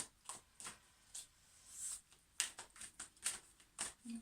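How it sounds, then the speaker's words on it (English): Oversized tarot cards shuffled by hand give soft, close, irregular riffling and flicking bursts, faint and without talk. "These are huge cards and I have really, really small hands, so shuffling is a bit of a challenge."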